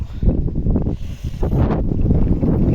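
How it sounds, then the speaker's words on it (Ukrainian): Cold, blustery wind rushes and rumbles against the microphone in a home yard flower garden, gusting unevenly throughout with a faint rustle in the background. "Ох, і вітер холодний"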